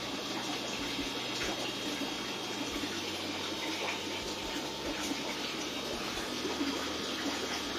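Water pours steadily into a temporary spa pool of about 2,000 litres, a continuous broad rushing that stays even and close throughout with no talk.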